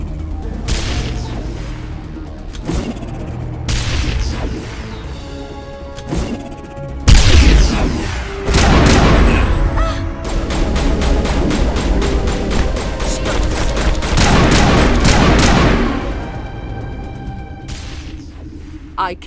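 Grenade blasts and bursts of gunfire in the video game Mass Effect, a loud chaotic stretch of booms, crashes and rapid shots layered with game music and voices.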